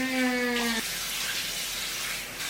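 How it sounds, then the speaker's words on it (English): Water runs steadily from a bathroom tap, a close, even rush that continues throughout, with a brief tonal squeal over it at the start. "Turn off your water."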